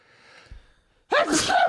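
A loud, deliberately acted sneeze bursts out after a brief breathy intake, a single close, explosive vocal blast following near silence.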